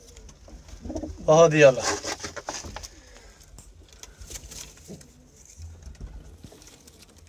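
Flying pigeons in Lahore give soft cooing calls close by, with one louder burst early on, while someone speaks briefly.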